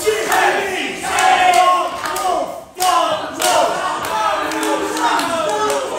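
A wrestling crowd at a live show in Loughton roars and chants for James Pharrell, a loud, sustained mass of voices with a brief dip before surging again, with scattered claps and shouts.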